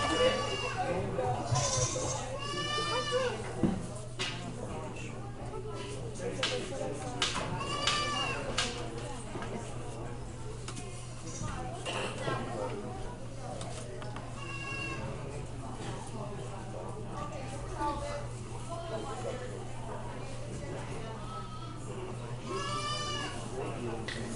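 Goats bleat repeatedly at a livestock auction, the calls rising over a constant hum and crowd chatter, with people talking nearby throughout.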